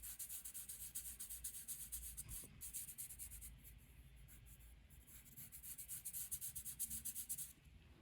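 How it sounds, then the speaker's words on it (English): Two colours of soft pastel are rubbed and blended on paper in Nagomi pastel art. A close, dry, scratchy rubbing carries on steadily in rhythmic strokes for several seconds without any voices. "Again, rub the two, blend the two color"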